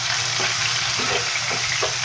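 Garlic frying in a little oil in a pan, a steady close hiss with a few soft stirring scrapes.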